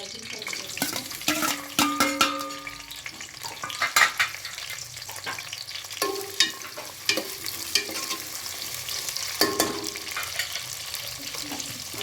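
Onion and green chilies frying in a pan for a fenugreek mutton curry, steady close sizzle with frequent spoon stirs and scrapes against the pan, plus a few brief clinks.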